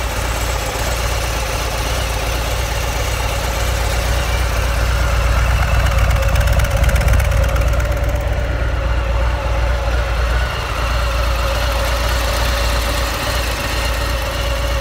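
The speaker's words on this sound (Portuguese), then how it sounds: "o som do motor." A Harley-Davidson motorcycle engine with two spark plugs per cylinder idles steadily and close by, a continuous low, throbbing rumble with no talk.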